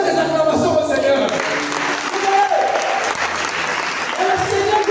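Sustained applause from a church congregation, steady and fairly loud throughout, with some voices and shouts mixed in.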